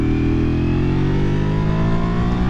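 A 2023 Ducati V4R motorcycle engine pulls hard under acceleration, its loud, close, smooth rising wail climbing steadily through the revs for a few seconds without a break.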